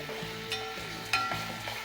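Spiced masala for a prawn curry is sautéed in a pan. It gives a low sizzle with scraping stir strokes and a couple of sharp utensil clinks over a faint background hum.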